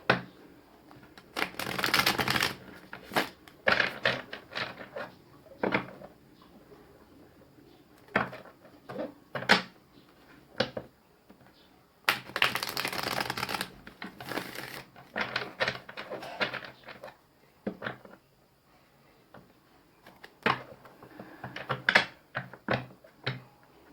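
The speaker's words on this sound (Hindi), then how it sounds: "3 कार्ड्स मैं इस डेक से निकालूंगी गाइस" Tarot cards are shuffled and drawn from a deck in repeated bursts of riffling and flicking, with pauses and soft handling noises between them.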